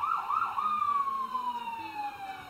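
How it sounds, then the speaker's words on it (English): An old fire truck siren wails loud and close in a long, continuous sweep that slowly falls in pitch, over a low road rumble. "The old fire siren."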